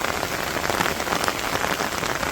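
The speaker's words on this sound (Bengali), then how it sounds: "গ্রামের এই যে বৃষ্টিটা একটু উপভোগ করার লাগে" Steady rain falls on surfaces in a rural Bangladeshi village, a dense, even hiss of drops pattering nearby without any speech.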